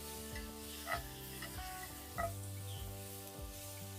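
Garlic sizzles steadily in a cast iron pan over an open fire while a spatula stirs it, with a few soft scraping clicks against the pan and a constant close frying hiss.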